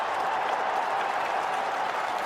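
A good crowd at Lord's, with many Pakistan supporters, applauds a four during the 2010 England vs Pakistan one-day international, making a steady, slightly distant wash of clapping that holds evenly throughout.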